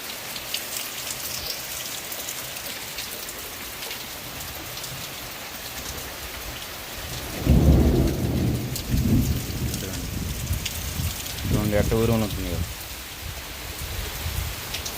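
Steady heavy rain pours down while thunder rumbles loudly once nearby, followed by a second rolling crack a few seconds later.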